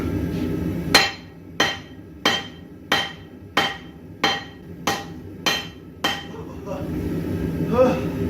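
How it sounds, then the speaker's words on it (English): Hammer blows striking scale off a cracking pizza-oven fire brick used as a forge, eight sharp metallic strikes at a steady rhythm about every half second, close and loud, followed by some faint clatter. "grabbing the hammer and having at it"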